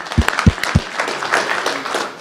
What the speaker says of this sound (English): I'll clap to that.